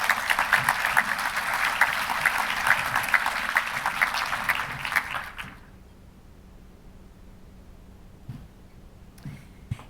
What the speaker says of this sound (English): Give Michelle a round of applause as she comes up to the stage to start.